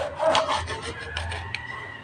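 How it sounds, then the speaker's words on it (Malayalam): A knife that is not very sharp slices through an eggplant (brinjal), giving a close, soft rubbing and scraping cut with a few light knocks on the board, with no talk. "ഒരു വഴുതിനങ്ങ എടുത്തിട്ട് പിന്നെ നേർങ്ങനെ ഇതേപോലെ സ്ലൈസ് ചെയ്യാം."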